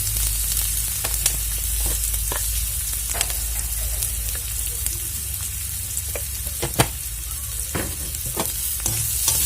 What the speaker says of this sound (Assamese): ভালদৰে হালধিখিনি মিহল কৰি ভাজি লম